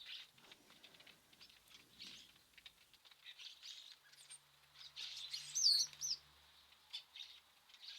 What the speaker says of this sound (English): the starlings turned up again